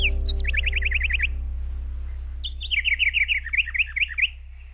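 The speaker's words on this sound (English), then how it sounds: "It's only then that birds come out of their nests and joyously sing." Outdoors at daybreak, a songbird sings clear, rapid trilling phrases twice, separated by a short pause, over a steady low hum.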